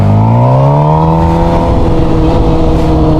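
A motorcycle engine held near 5,000 RPM for a race-start launch, loud and close, with a droning tone that sags slightly in pitch as the revs drop, steady throughout.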